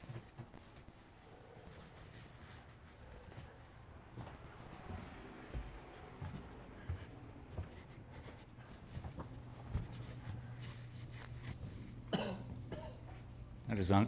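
A couple of short, sharp coughs from a person during a canvas painting session, landing near the end over a low steady hum and faint room noise.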